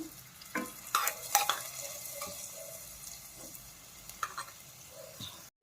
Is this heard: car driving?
no